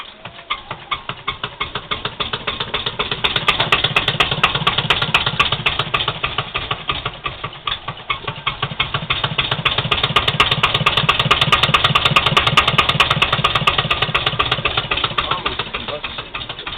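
A small engine being worked on in a workshop, running with a steady rapid chugging throughout at close range, swelling louder and easing back in two waves.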